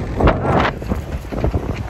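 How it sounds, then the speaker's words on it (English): Outdoor wind buffeting a microphone, loud rumbling gusts close up that swell briefly and then settle into lighter fluttering, with no voices. "It's pretty windy out here."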